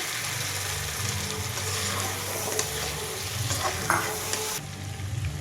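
Mutton pieces being stir-fried in a pan, a steady close sizzle with scraping stirs and occasional clinks of a spatula throughout, no voices.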